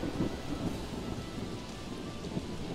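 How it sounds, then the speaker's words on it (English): Heavy rain pours steadily through a thunderstorm at sea in Pirates of the Polygon Sea, a dense continuous hiss with low rumbling thunder underneath, loud and unbroken, with no voices. "Let's sail down and discover another island through the large thunderstorm."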